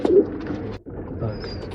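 Pigeons at a bird sales loft in Bangalore give a low, close coo for a moment, then a brief break and more soft bird sounds.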